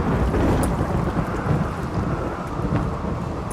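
Steady heavy rain and low rolling thunder from a stormy weather event in the colony-building video game RimWorld, a dense continuous wash of sound with no voices.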